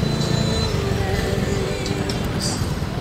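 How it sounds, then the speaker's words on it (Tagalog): Road traffic picked up by a Saramonic Ultra Wireless mic mounted on a half-face motorcycle helmet: a steady, loud wash of engine rumble and wind noise with faint passing vehicles. "this is the sound of the Saramonic Ultra Wireless on a half-face helmet in the traffic"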